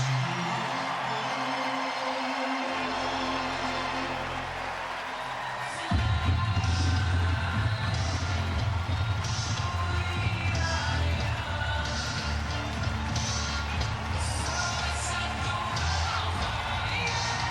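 Baseball stadium crowd cheering for Clayton Kershaw of the Los Angeles Dodgers: a sustained, swelling roar with whoops rising sharply partway through, under a broadcaster's talk.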